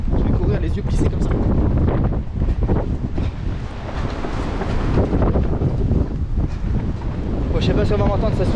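Strong wind buffets the microphone of a runner on a sandy trail during a 92 km ultra-trail relay race, a loud, continuous roaring rumble with gusty surges throughout.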